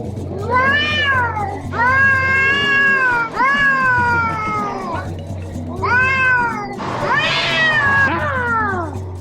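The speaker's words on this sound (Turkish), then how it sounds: "Kedi kavgası." Cats yowl and caterwaul loudly in a string of long, wavering cries, close up, with a harsher snarling burst near the end.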